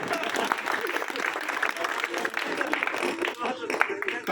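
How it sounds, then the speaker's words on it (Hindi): An audience claps steadily throughout a spoken gathering, fairly faint, with voices mixed in over the clapping. "अब तालियां तो बची हैं केवल, इसलिए बजाओ ढंग से यार"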